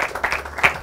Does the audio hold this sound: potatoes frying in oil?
no